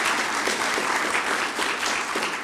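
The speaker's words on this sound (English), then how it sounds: "please give our panelists another round of applause" An audience applauding panelists at a media literacy and fact-checking session, a steady, dense clapping from a crowd that fills the room for a couple of seconds.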